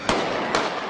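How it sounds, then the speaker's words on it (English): Gunfire during street protests in Ferguson after a grand jury decision: two sharp, loud bangs about half a second apart over a dense, noisy crowd-and-street backdrop. "gunfire"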